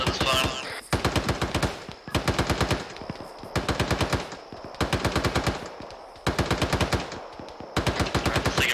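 Bursts of automatic machine-gun fire in an infantry squad video game fight for a hill, rapid loud rattling volleys of about a second each repeating with short gaps, close and harsh.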